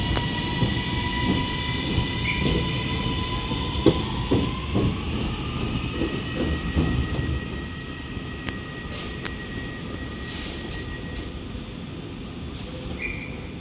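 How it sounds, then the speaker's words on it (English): A Northern Class 331 electric multiple unit pulls away from Manchester Oxford Road station, its motor whine rising in pitch under rolling wheel noise, with a few metallic clicks and squeals as it recedes. "And as that 331 heads off now departing"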